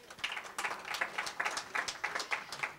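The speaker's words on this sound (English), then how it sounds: "let us applaud both officials for taking the time to come" A seated audience claps in welcome for two UN officials at a Dag Hammarskjöld journalism program event, a short steady patter of many hands close by with no talking.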